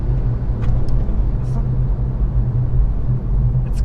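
Citroen e-C3 electric car driven at full throttle, a low steady road and motor rumble heard from inside the cabin while a person talks over it.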